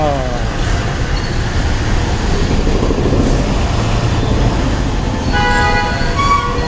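Busy road traffic in Vijayawada, India, forms a loud, constant rumble with passing vehicles and car horns tooting near the end. Voices can be heard faintly under the din.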